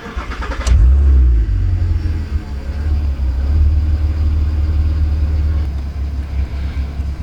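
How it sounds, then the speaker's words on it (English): An Audi TT engine cranks briefly and catches, then settles into a steady low idle rumble, close and loud with no talk. "I'm going to start the car now"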